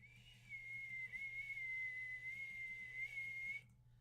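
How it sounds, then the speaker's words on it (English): A person whistles one sustained, steady high tone for about three seconds, close and clear over a faint background hum, then stops abruptly. "I can whistle pretty loud"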